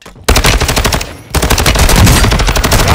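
Automatic gunfire in the battle royale game Call of Duty Warzone 2.0: loud rapid bursts of machine-gun shots, a short opening burst then a longer sustained volley after a brief pause, with no voices.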